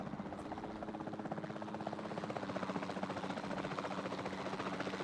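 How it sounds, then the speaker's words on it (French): A capture helicopter from the video game Jurassic World Evolution flies with a steady, rhythmic rotor thump over a buzzing engine drone that holds at an even level. "la meilleure chose à faire serait de l'endormir depuis les airs avec un hélico de capture"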